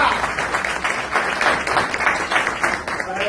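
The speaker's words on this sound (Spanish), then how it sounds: "así que un aplauso a Daniel" A union meeting audience applauds for Daniel, a close, dense and steady round of clapping that fills the whole short stretch without pause.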